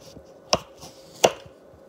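Two crisp knife chops through a potato on a cutting board while making French fries, spaced about 0.7 seconds apart, close and fairly loud with quiet between.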